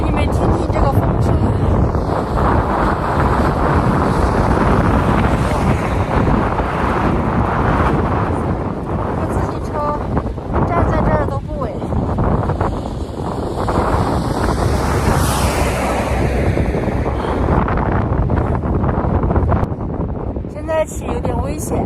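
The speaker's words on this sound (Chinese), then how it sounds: "给你们听听这个风声。" Strong wind buffets the microphone on a high-altitude mountaintop in Tibet, a loud, continuous roar with gusty surges and rumbling low-end blasts throughout.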